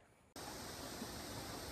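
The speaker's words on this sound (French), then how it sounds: "La cascade de l'Artigue." Cascade de l'Artigue waterfall, a sudden full roar of rushing water that cuts in after a quiet moment and holds as a broad, steady, even wash of noise.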